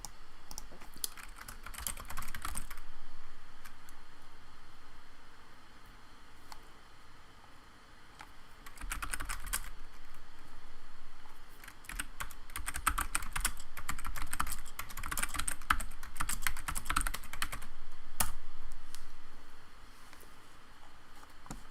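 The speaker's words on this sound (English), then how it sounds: "let me just type into the chat here" Someone types a message into a chat on a computer keyboard, with close, quick bursts of clicking keys separated by short pauses over about twenty seconds, and no one talking.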